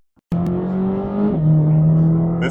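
A Chevrolet Corvette C8 ZR1 with a 1,064-horsepower engine starts up loud and close after a brief silence, then drones steadily while driving, its pitch stepping down once partway through.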